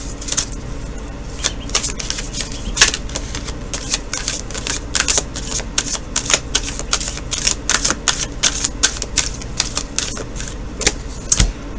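Tarot cards are shuffled steadily for several seconds, giving a dense run of crisp, rapid clicks and flutters up close, with no voice over them.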